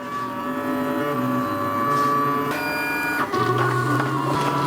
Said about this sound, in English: the sound's probably getting a bit mental with the printer and the 2 heaters